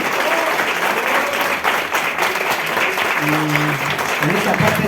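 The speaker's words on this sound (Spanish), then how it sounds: "vamos a darle un fuerte aplauso al maestro Santelli" Strong, steady applause from an audience honouring a speaker at a talk, with voices audible through the clapping.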